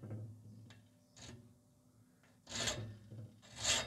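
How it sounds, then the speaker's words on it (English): A triangular file rasps a V groove into the end of a steel piece for a sculpture, heard as a few quiet scraping strokes. The last two strokes near the end are louder, with near-silence between them. "Now I'll take a file and put a V groove in the end to show sort of like the hoof."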